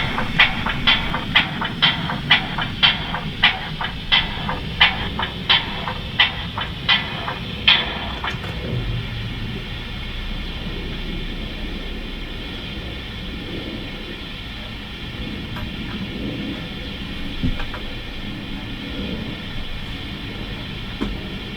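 Sound-fitted Bachmann Pannier tank model locomotive running on a layout with a small speaker: rhythmic chuffing beats for the first eight seconds, then a steady low rumble and hiss with faint clicks, fairly quiet and without talk.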